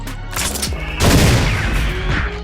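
GS-3305 weapon discharging in the Roblox game Beast Force, an M2-equipped gun: a dense burst of booming shots begins partway through, loud and sustained over low rumble after a quieter opening.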